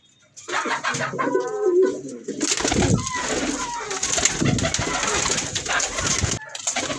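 Soft, throaty cooing of an Indian fantail pigeon in a few rolling phrases near the start, then fading under louder background voices and clatter.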